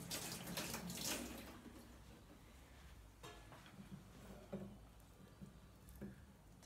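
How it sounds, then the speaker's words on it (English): Cherry tomatoes rinsed under a running kitchen tap, a steady close rush of water that is louder at first, with occasional splashes and clinks as they are handled, no speech. "Just give them a rinse under the tap."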